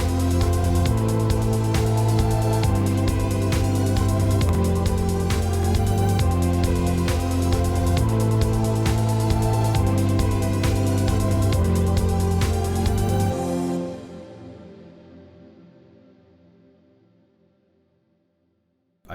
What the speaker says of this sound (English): I also have these huge orchestral crashes that come in, and the hi-hat picks up quite a lot.